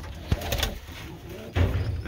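Birmingham Roller pigeons, including red checked and ash red cocks, coo in two soft bursts, near and fairly quiet, with light background noise and no talk.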